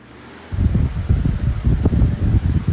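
A TPI 12-inch electric fan running at full power after a soft start, its blades churning out a loud, fluttering whoosh of moving air that stays close and steady with no voices.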